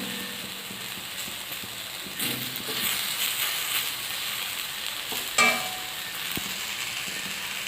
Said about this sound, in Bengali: আমি একটু সরু করে আলু ভেজে নিচ্ছি